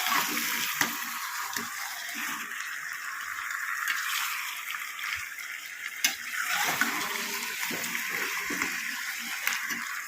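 Raw chicken, washed in salted water, goes into a hot pan for a dhaba-style chicken curry, giving a steady close sizzle and frying hiss with occasional stirring clatter, alone without talk.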